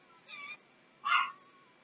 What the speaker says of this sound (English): There must be a dog walking by.